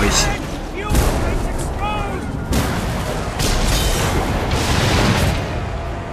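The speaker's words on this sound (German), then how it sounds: "So eine Explosion" Explosions in the video game Mad Max go off as several heavy booming bursts spread across a few seconds, mixed with rumbling game noise and brief voices.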